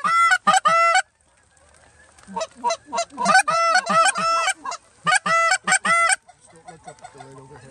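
Canada geese honk loudly from a flock passing overhead during a goose hunt on Prince Edward Island, with bursts of repeated calls in clusters, and low murmuring voices between them.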